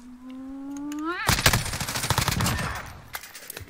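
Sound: shotgun gunfire in video game Call of Duty

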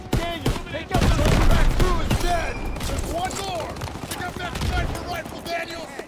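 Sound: gunfire in Call of Duty: WWII video game

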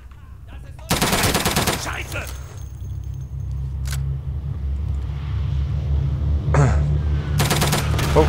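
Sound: gunfire shooting through walls in a video game

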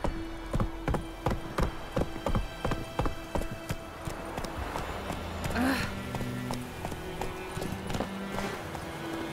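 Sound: horse Roach hooves clip-clopping, The Witcher 3 video game

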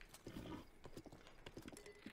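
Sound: horse hooves galloping in video game Zelda Breath of the Wild

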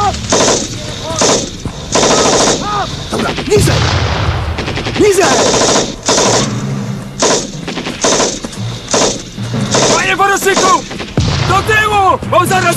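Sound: gunfire and machine gun shooting

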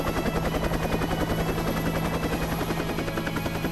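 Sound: helicopter flying (audio drama effect)

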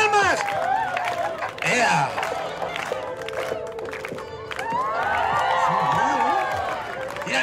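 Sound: audience clapping along at clown show

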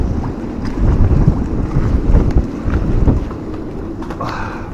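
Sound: strong wind and rattling

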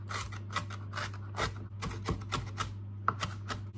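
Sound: mincing food finely

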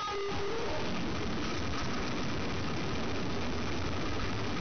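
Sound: sewing machine stitching lace onto a frock

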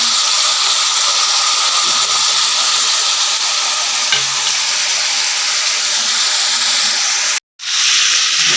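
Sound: chicken frying in a pan

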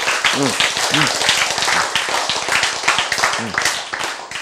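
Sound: applause

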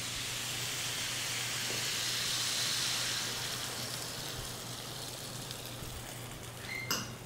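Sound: frango xadrez sauce mixture boiling in hot pan

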